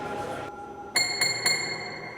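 A bell-like sampled tone from a Knobula Pianophonic synthesizer module plays alone: a sustained note, then three bright, glassy strikes repeating about every half second, moderately loud.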